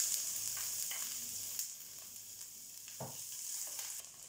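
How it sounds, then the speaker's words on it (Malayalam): Chopped ginger hitting hot oil in a pan gives a steady sizzle throughout, with a few soft stirring scrapes and light spatter bursts, at moderate volume and without voices. "ഇപ്പോൾ എണ്ണ നന്നായിട്ട് ചൂടായിട്ടുണ്ട്. ഇതിലോട്ട് നമുക്ക് ആദ്യം അരിഞ്ഞു വെച്ചിരിക്കുന്ന ഇഞ്ചി ഇട്ട് കൊടുക്കാം."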